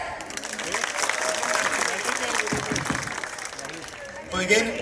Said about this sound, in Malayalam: പ്രേം കൃഷ്ണ IASന്റെ സാറിനെ വിളിക്കുകയാണ്. ഒരു കൈയടിയോടെ.